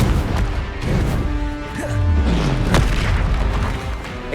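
A Confringo blasting spell goes off in Hogwarts Legacy with a loud, deep boom and rumbling burst that sustains across the moment, layered with crackling debris and game effects.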